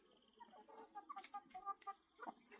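Chickens cluck softly nearby in a quiet spring orchard with bees among blossoming trees, a series of short, irregular calls rising and falling over a couple of seconds.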